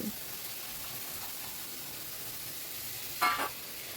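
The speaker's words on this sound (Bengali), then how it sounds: "সুন্দর করে মশলাটা কষিয়ে নেব।" Steady, close sizzling of spices frying in oil in a pan for dal tadka, with soft stirring scrapes and a brief louder scrape of the spoon near the end.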